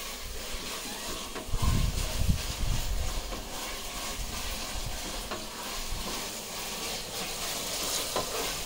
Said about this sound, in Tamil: வதக்கு வதக்கு வதக்கு வதக்கு வதக்கு நல்லா வதக்கியாச்சு